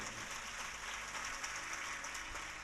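Audience applause at the close of a Shrimad Bhagwat Katha religious discourse gathering in Firozabad, a dense, steady wash of many hands clapping that holds at an even level throughout.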